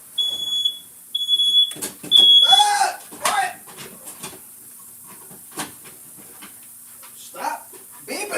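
A smoke alarm chirps in short high beeps, three times, while a dog whimpers and someone speaks briefly nearby.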